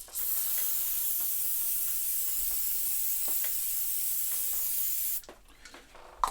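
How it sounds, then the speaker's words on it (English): Aerosol can of label remover sprayed in one long continuous hiss of about five seconds during a keybed repair on a Roland S-50, then cutting off to quiet handling noises. "give it a good spray"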